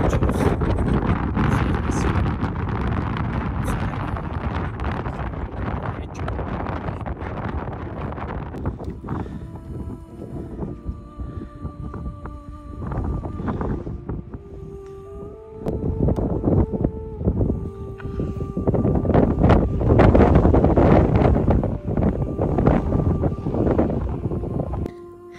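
Strong wind buffets a mountainside during a wild garlic foraging trip, a steady broadband roar that eases midway, carries a few faint tonal hums, and swells louder again toward the end.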